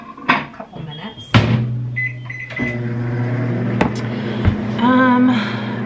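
A microwave heating a cheese and turkey tortilla gives a loud, steady hum with a door clunk and a beep, and someone talks over it.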